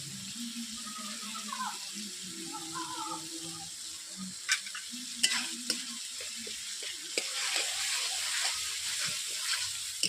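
A spatula stirs peanut paste into frying masala for cauliflower kofta curry, with soft sizzling under repeated scraping and a few sharp clinks, close and fairly quiet, and no speech.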